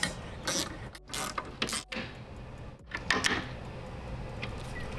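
A ratchet tightens 13 mm bolts on a Ford Bronco tailgate reinforcement bracket in several quick bursts of rapid clicking. Short pauses separate the bursts, close and moderately loud with no talking.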